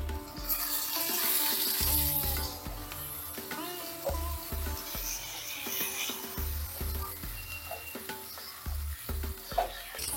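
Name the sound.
vegetables sautéing in oil with turmeric and salt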